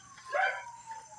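A dog lets out a single short bark-howl reacting to sirens, fairly faint and a little distant, with a low steady hum underneath.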